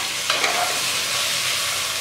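Boiled mutton being stirred into a sizzling onion-spice masala in a pan for mutton biryani, a steady frying hiss throughout with a couple of brief scraping clinks near the start.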